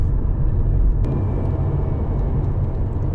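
Porsche 911 sports car on the move, a steady low engine and road rumble heard from inside the cabin, fairly loud and continuous.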